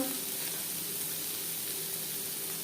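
Chopped onions frying in hot oil in a kadai, a close, even, continuous hiss of sizzling with no break and no voices.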